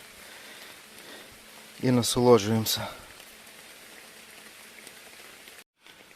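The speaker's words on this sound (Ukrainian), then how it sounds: "Дощик падає." Light rain falls steadily in a forest near an old village, a soft continuous patter throughout, with a brief spoken phrase cutting in midway.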